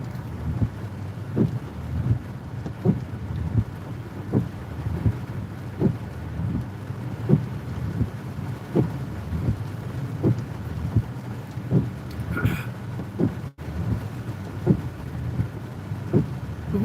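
A thunderstorm over the Lickey Hills in North Worcestershire, with rain and wind buffeting the microphone and a series of regular low thumps and rumbles running throughout, no voices.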